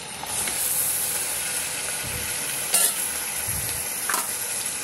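Chicken pieces and chicken liver frying in a pan with onion and turmeric, a close continuous hiss and sizzle with occasional stirring scrapes and louder spits.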